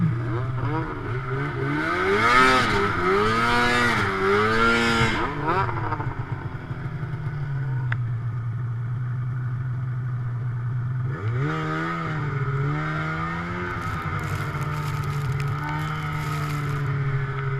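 A snowmobile engine revs hard in repeated bursts as it strains to pull free from deep snow, its pitch climbing and falling, then settling into a steady idle before surging again.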